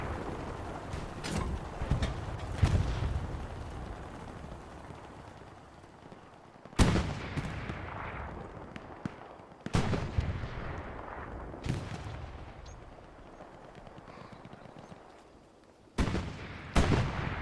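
Anti-tank gun blasts in the shooter game Hell Let Loose at Purple Heart Lane, several sharp booming shots spaced irregularly, with lighter gunfire and battle rumble between them.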